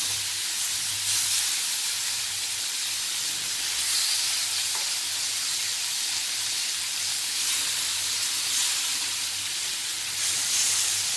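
Chicken pieces frying in a pan for butter chicken make a loud, steady hiss that runs without a break the whole time, with no talking.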